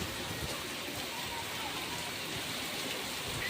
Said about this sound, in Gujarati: ફૂલ વરસાદ છે જામનગરમાં.